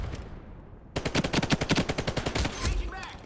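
Rapid automatic gunfire in the online shooter Ironsight, a fast burst of loud, closely spaced shots that starts abruptly after a quiet lead-in and runs for about two seconds before tailing off.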